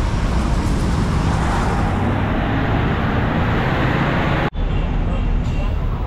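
Heavy bumper-to-bumper road traffic on EDSA near Balintawak, a dense continuous roadway roar with passing vehicles up close, broken by a brief dropout near the end.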